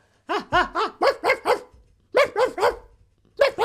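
A dog barks in quick, loud bursts close by, three or four yaps per burst separated by short silences, with no other sound around them.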